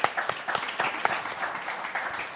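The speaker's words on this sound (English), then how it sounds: "Please clap hands for my panelists" An audience at a privacy symposium in Harare, Zimbabwe claps for panelists, a fairly faint, steady patter of applause that continues throughout.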